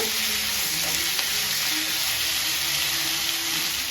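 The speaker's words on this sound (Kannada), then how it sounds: "ಆಲೂಗಡ್ಡೆ ಹಾಕ್ಬಿಟ್ಟು ಇನ್ನು ಒಂಚೂರು ಫ್ರೈ ಮಾಡ್ಕೊಳ್ಳೋಣ" Continuous close-up sizzle of potatoes frying in oil, a steady crackling hiss with occasional faint scrapes.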